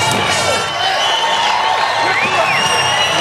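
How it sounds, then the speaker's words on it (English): Crowd cheering and whooping at a 1995 X Games inline skating street event, a loud continuous roar with whistles and shouts rising throughout. "And the crowd is going crazy here."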